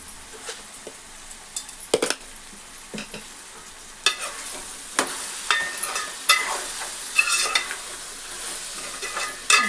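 Stuffed brinjal curry with turmeric and salt sizzles in a pan while a spoon stirs it, giving repeated close scraping and squishy strokes over a steady frying hiss.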